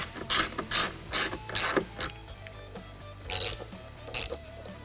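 Ratchet driving screws back into a vehicle cowl corner during an air chuck conversion kit install, with quick bursts of rapid metallic clicking repeated in short strokes, close and clear.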